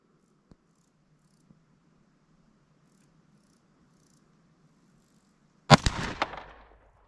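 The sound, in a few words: pistol shots at a shooting range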